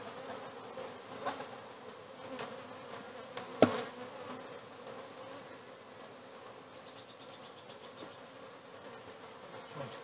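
Honeybees buzz steadily around an open stacked hive, a dense close droning hum with a brief sharp knock partway through.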